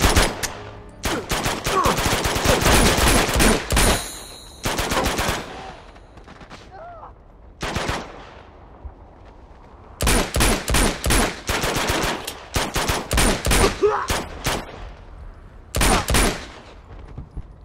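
Gunfire in the video game Uncharted 2: Among Thieves, with dense, loud bursts of automatic fire in several clusters separated by quieter pauses, plus scattered single shots.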